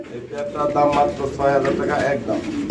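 Spangled Lahori pigeons coo in low, throaty bursts, repeated steadily over a bustling crowd of talking people at a pigeon market.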